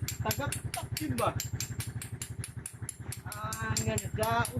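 A broken motorcycle chugs with a fast, steady rattling pulse that keeps going under excited voices speaking nearby.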